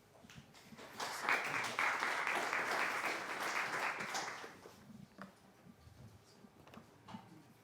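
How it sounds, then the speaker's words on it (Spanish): Audience applause at a university literature lecture welcoming guest speakers, swelling in, holding steady for a few seconds, then fading into scattered claps and room noise. "recibámoslos con un aplauso"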